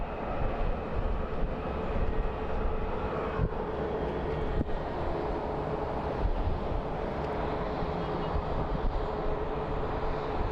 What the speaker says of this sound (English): And here's our Southwest that just came from Maui